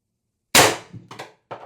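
A Pistelle X-68 air pistol firing ACIL 10.1 g ABS-coated steel balls from an adjustable 1000 psi regulator: one sharp, loud close-range crack followed by a few quick metallic echoes or clinks, with no voices.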